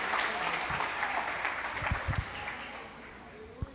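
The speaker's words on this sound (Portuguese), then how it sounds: "Aplauda o Senhor dessa noite, irmão" Church congregation clapping during an evening teaching service, a broad wash of applause with a few sharper individual claps standing out, fading slightly toward the end.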